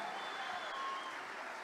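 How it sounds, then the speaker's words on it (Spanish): Continuous applause from a church congregation during a Spanish-language strategic congress sermon, an even wash of clapping heard fairly distantly and quietly with no break. "Denle aplauso al Señor que vive."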